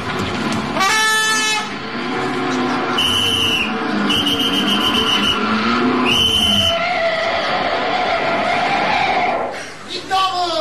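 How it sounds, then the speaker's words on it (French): Several loud car horn blasts, short and long honks, over busy street noise and people talking. "Vous savez pas qu'il est interdit de klaxonner, non?"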